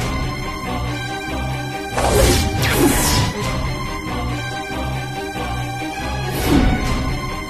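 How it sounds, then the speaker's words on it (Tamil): Glass shatters in a dramatic domestic scene, with sharp crashing bursts striking twice close together and again a few seconds later, loud over a sustained musical backdrop. "கண்ணாடி உடைஞ்சு கிடக்கு."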